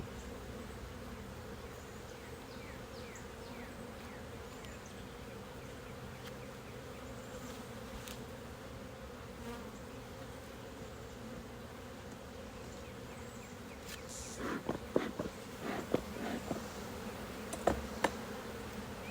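Honey bees droning continuously around an open hive during a summer inspection, a dense steady buzz with a few sharper close passes and light knocks near the end, with no talk.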